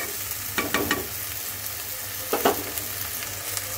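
Prawns with vegetables, including potato, fry in a pan over a very low flame: a soft constant sizzle with two bursts of spoon scraping and stirring, close and unaccompanied by talk.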